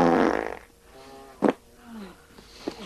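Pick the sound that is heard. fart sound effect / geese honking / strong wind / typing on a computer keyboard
fart sound effect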